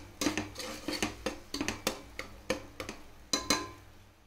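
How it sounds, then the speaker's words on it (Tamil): A spoon scrapes and taps against a pan as spice paste is sautéed in ghee for Bhai-style mutton biryani, giving a run of about a dozen sharp, close metallic clinks in an uneven rhythm without speech. "இந்த பேஸ்ட்டை நம்ம நெய்யிலேயே ஒரு 10 நிமிஷம் நல்லா வதக்கி விட்டுக்குருவோம்"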